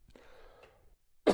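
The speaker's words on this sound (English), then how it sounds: "had to cough there a second" A single sharp cough bursts out near the end after a quiet stretch of low background noise.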